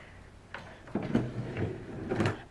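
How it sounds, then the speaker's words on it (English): A desk drawer in a university apartment slides open with a short scraping rumble and a couple of soft knocks. It is heard close and fairly quiet, with no talk. "And then in this drawer,"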